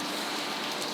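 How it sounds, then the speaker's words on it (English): Steady rain falling as a dense, even hiss, with no voices over it. "rain, glorious rain"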